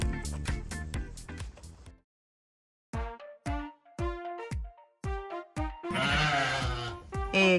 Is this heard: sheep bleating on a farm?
yes